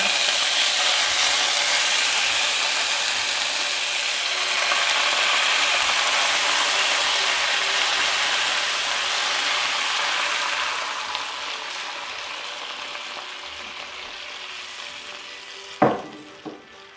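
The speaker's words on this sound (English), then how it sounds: "Now let's add the broth, slowly by slowly." Broth poured slowly into a hot pan of chicken breast, a steady loud sizzle and hiss that gradually softens, ending with a couple of sharp clinks of a utensil.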